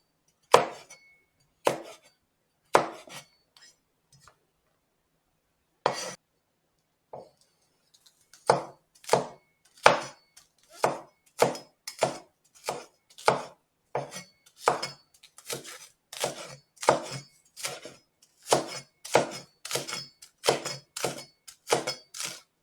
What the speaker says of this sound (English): I'm just cutting up the vegetable that I'm going to use on the meat.